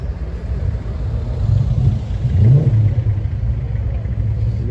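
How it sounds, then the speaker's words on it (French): A Porsche 911 Turbo S, type 992, rolls by at a car-spotting gathering in Vauban, a deep continuous engine rumble swelling briefly as it passes close, with no talk. "Regardez la petite Porsche"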